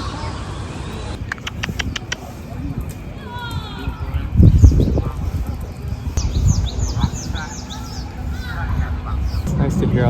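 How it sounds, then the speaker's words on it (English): Small birds chirp and twitter in quick scattered bursts outdoors near a street, fairly faint under a child's and adult's voices and background noise. "It's nice to hear all the birds."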